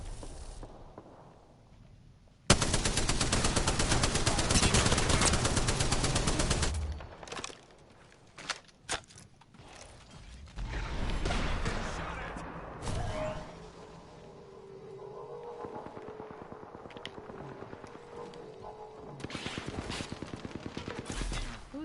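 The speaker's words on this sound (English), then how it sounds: "Shot fired, and they're hitting me." Automatic gunfire in the video game Apex Legends, with a long sustained burst early on, then scattered single shots and more bursts of fire mixed with footsteps and in-game effects.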